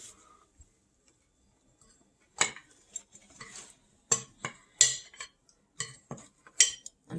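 Flour tortilla dough being mixed by hand with lard in a bowl, heard as sporadic scraping and clinking bursts that grow busier after a quiet start, close and moderately loud, with no talking.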